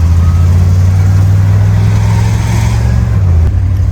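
An OBS dually pickup truck's engine revs under load, a loud, steady, deep drone that holds throughout and dips in pitch near the end, with no talking.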